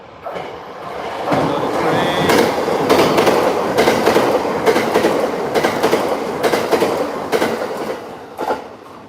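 A train rumbles past with rhythmic clattering of wheels over rail joints, loud and close, steady for several seconds.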